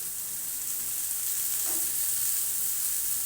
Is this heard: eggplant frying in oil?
yes